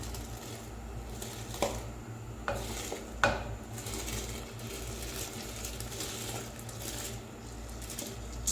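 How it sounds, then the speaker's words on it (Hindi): Washed rice being added to a pot of boiling water and stirred, a faint steady bubbling with a few soft clinks and scrapes of a utensil against the pot. "अब हम इसमें चावल ऐड कर देंगे जो हमने पहले से ही धो के रखे हुए थे।"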